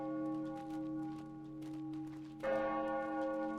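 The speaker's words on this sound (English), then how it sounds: "Ring those bells." Ship war bells ring out in a naval video game, a sustained tonal clang that swells louder with a fresh strike partway through, with no talking over it.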